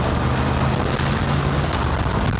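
A 1966 Corvette Stingray engine under way, a strong low droning rumble heard up close and steady throughout the short stretch, with no voices over it.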